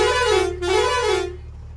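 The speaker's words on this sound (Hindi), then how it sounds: "ताजो भाई ताजो हॉर्न" A newly fitted vehicle horn honks twice in quick succession, loud and close, with a bright tone.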